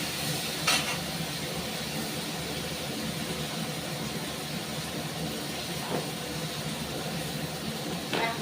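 Potatoes being fried and stirred in a pan, a steady close sizzle with occasional scraping knocks of a utensil throughout, no voices.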